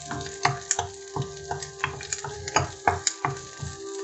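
Onion sizzles and fries in a pan for a vegetarian breakfast, a steady crackle broken by a rhythmic run of sharp scraping and stirring knocks of a utensil against the pan, close and fairly loud, with no talking.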